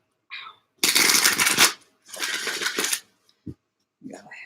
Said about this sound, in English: go ahead and shuffle one more time